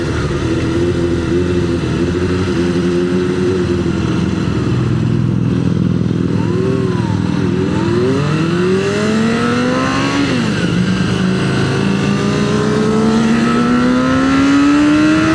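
A Suzuki GSX-R 400 motorcycle engine revs hard and accelerates along a dual carriageway, its pitch climbing steadily through the gears with loud, continuous engine drone and wind roar close to the rider.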